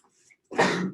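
A single short, explosive sneeze-like burst up close, breathy and broadband, following a moment of near silence.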